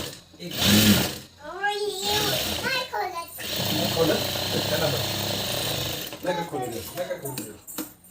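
A sewing machine hums and stitches fabric for a puffed sleeve fitting in rapid, steady bursts of varying length, with someone speaking Marathi between and over the runs.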